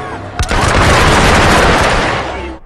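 Gunfire in the stealth action game Hitman Absolution: a sharp shot opens into a dense, sustained burst of loud rapid-fire shooting and booms lasting over two seconds, ending abruptly.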